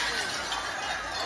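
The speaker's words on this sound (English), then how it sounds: "you can hear the glass falling from these windows 5 or 6 stories up" Huge broken glass panes fall from windows five or six stories up during an earthquake, making a dense, continuous crashing and rattling wash of noise that fills the short moment.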